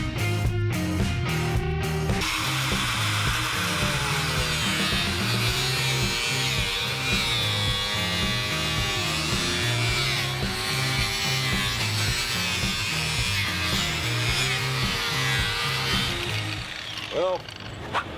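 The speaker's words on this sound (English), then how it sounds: "I'm just going to hack through it with the right angle grinder" An angle grinder cuts through the plastic air dam under a truck's bumper, a loud, steady whining drone that holds for most of the span, with a few short bursts at the start and a trailing off near the end.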